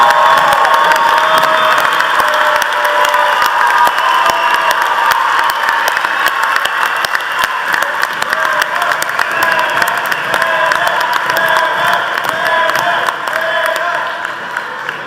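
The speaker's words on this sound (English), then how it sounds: "audience, will you please stand and give these graduates a roaring round of applause" A university commencement audience rises for the graduates with loud, sustained applause mixed with cheering, whoops and shouts, a full crowd roar that holds for about fifteen seconds before starting to taper.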